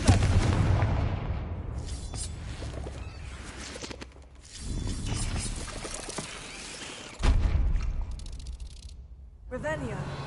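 Confringo blasting curses in the Hogwarts Legacy video game go off as loud, booming explosions with rushing, crackling debris, several blasts in a row at close range, and speech mixed in between them.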